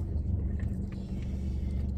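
Steady low rumble of a car interior while driving on a hot day, constant and close with no clear acceleration, a few faint higher clicks above the drone.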